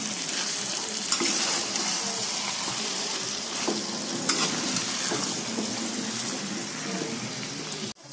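Chicken with green chili sizzles in a pan over low heat, with a continuous crackling hiss and a few scraping knocks as it is stirred; no voices are heard.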